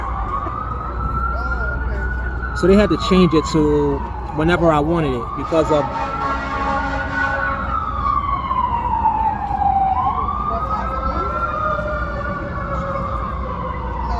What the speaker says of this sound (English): Sounds of New York, more sirens.